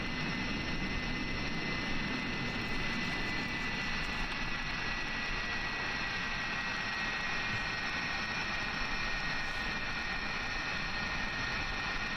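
MD-82 thrust reversers roaring on landing in Microsoft Flight Simulator, a steady loud broadband jet rush with a high whine, continuous and unbroken with no talk.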